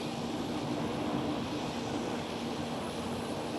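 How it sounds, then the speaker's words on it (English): Engines of a KLM CityHopper Embraer E175 regional jet at Amsterdam Schiphol give a steady, loud roar with a low droning tone, unbroken and alone, without talk. "There goes KLM City Hopper"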